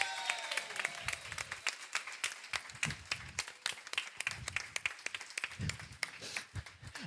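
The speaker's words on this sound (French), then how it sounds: "Merci d'applaudir très très fort, Andrea!" Audience applauding a dancer at a church troupe performance, steady dense clapping of many hands sustained throughout, fairly near and moderately loud with sharper individual claps standing out.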